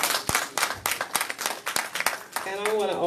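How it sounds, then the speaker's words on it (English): Audience applause for a speaker at an elders' question-and-answer gathering, a handful of loud, close claps in a loose rhythm, giving way to a voice speaking at the end. "Let's give her another round of applause."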